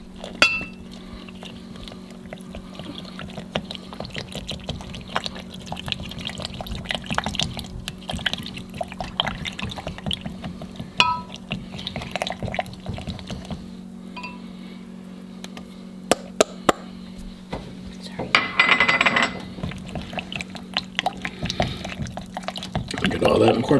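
A spoon stirs baking soda and arrowroot powder into melted oils in a pot for homemade deodorant, giving soft scraping and light clinking at a low level, with a person talking at times.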